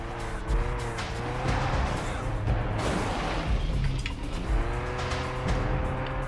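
Vehicle engine in the Renegade Ops video game driving around on ice, a close, continuous revving roar with rising and falling pitch and occasional tire-squeal skids, no talking.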